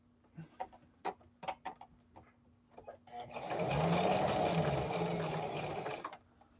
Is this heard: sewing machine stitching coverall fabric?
yes